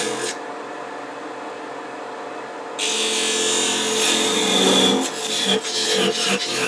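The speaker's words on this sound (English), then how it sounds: "I'm going to use a thin parting tool." A thin parting tool cuts into exotic wood spinning on a lathe, a steady hiss of turning first, then a louder, harsher scraping bite with rising grind and brief catches, close and with no talk.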